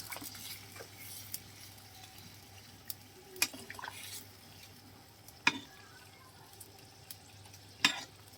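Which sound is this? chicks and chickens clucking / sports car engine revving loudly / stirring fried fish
stirring fried fish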